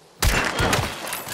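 A gunshot from the video game Hunt: Showdown: a single loud, close blast with a heavy thump and a ringing tail that lingers for about a second.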